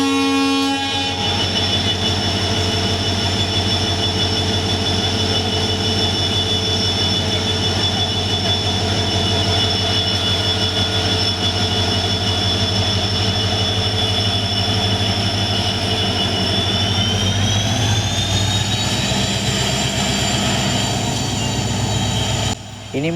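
A diesel locomotive hauling a Karaikudi-bound passenger train sits loud and close, its engine droning steadily with sustained horn-like tones, rising in pitch near the end as the train begins to depart.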